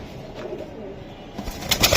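Pigeons cooing softly among racer, Giribaz, Gola and Budapest breeds at a pigeon market, a low murmur under light market bustle, ending in a brief flurry of wing flaps and handling noise.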